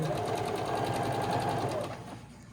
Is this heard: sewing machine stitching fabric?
yes